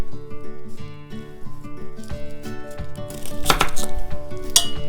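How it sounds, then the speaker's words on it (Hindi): Unpeeled garlic cloves are chopped with a knife on a board for chicken stock, a few close, sharp knocks over steady background music, with no talking. "गार्लिक का छिलका उतारने की ज़रूरत नहीं है, काट के डाल देंगे"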